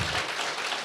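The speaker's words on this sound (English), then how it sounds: "They deserve a huge round of applause." A brief wash of dense applause from a crowd, steady and moderately loud, with no voices standing out.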